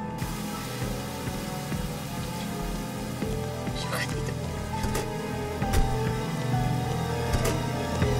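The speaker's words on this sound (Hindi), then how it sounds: "बारिश आ गई" Steady rain patters on surfaces with scattered sharper drops, a dense continuous wash of sound; voices murmur faintly beneath it.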